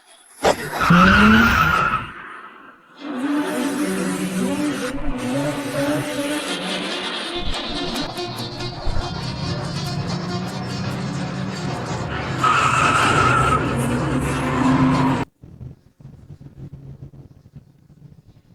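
Vehicles speeding hard along a snowy high-altitude mountain road in a chase, with loud roaring engines and tyre skidding squeals that sustain for about fifteen seconds before cutting off abruptly, leaving only faint background sound.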